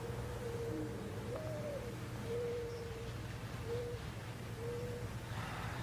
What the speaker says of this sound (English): I understand that you're used to that bird noise, but that would be haunting my nightmares